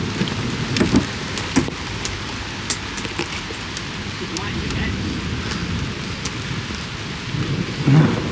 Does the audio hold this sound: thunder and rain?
yes